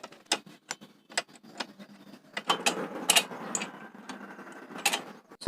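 A 12 mm wrench works loose a motorcycle chain adjuster, giving a quick run of sharp ratcheting clicks, sparse at first and then denser and louder, heard up close with no talking.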